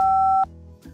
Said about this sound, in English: call and leave us a message after the beep